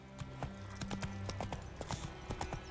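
Roach the horse gallops in The Witcher 3 with quick, rhythmic hoofbeats that are clear and close, over a low steady background.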